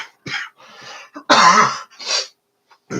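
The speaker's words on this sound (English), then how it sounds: "you just got to tolerate the cough" Several harsh coughs and throat clearing from one nearby person, coming in short bursts with brief pauses, loudest in the middle.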